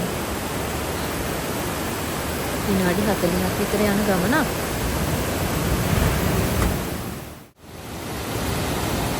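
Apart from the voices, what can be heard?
waterfall rushing water in Nuwara Eliya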